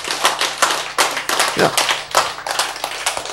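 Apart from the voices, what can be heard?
hands clapping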